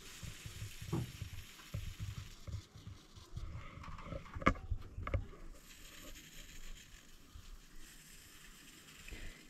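Soybeans roasting in a pan with onion, curry leaves and garlic for a Goan sprouted moong curry, faint sizzling and occasional stirring scrapes at low level throughout, no voices.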